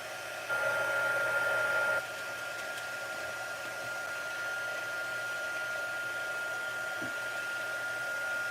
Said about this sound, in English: I'm going to turn my heat gun on.